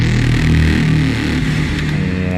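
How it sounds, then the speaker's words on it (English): A simple acid waveform synth plays with filter automation opening up from closed, a thick buzzy low-pitched drone with shifting harmonics that brighten over the short stretch, heard alone. "It's just a simple acid waveform in here"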